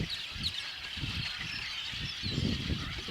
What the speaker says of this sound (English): We have spotted our first batch of snow geese.